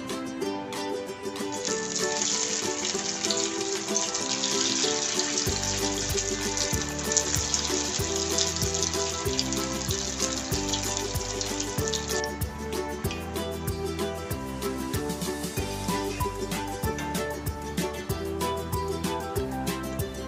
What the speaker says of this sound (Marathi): पाच मिनटं छान लो फ्लेमवर गॅस ठेवून वड्या तळून घेऊया